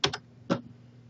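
Three crisp keystrokes on a computer keyboard, two quick taps followed by a third after a short pause, close and clear with nothing else in the background.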